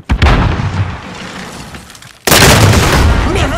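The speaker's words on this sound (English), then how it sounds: "Throwing stun!" A stun grenade goes off in Call of Duty: Modern Warfare, a loud sudden blast midway that cuts off the preceding gunfire clatter and leaves a sustained bright ringing wash.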